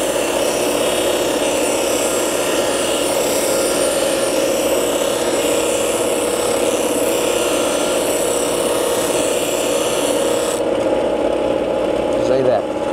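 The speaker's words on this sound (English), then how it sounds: "that's one way how to sharpen your tungsten, just by hand." A TIG welding tungsten electrode being ground to a sharp point by hand on a grinder, a loud steady whirring grind running without a break, then easing off near the end.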